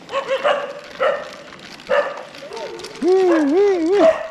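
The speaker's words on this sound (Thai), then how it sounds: "รองเท้าหนูวิบวับขนาดนี้หมาเห่ากันลูก" Street dogs bark at passersby in the small hours before dawn: three or four sharp, nearby barks spaced about a second apart, then a person's loud, wavering voice calling out over them.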